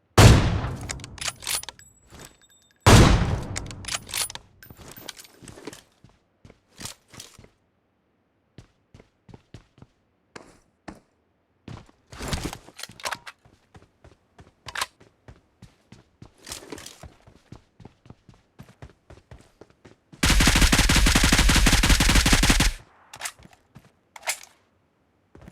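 Gunfire from an AWM sniper rifle in the BGMI battle royale game: several loud, sharp cracks near the start and around twelve seconds, with scattered clicks and footsteps between and a burst of dense noise later.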